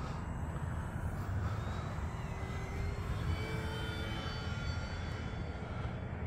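An E-flite P-51D Mustang electric model airplane flying high on a winter day, a faint, distant steady motor drone with slowly shifting whine over continuous outdoor wind noise.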